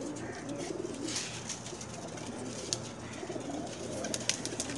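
Pakistani flying pigeons coo in soft, overlapping low calls over a steady background hum, close by and continuous.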